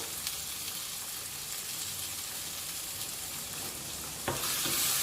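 Tomatoes and slit green chillies sauté in a pan for a Kerala-style coconut fish curry, giving a steady, close sizzle that grows louder and brighter near the end, with no talking.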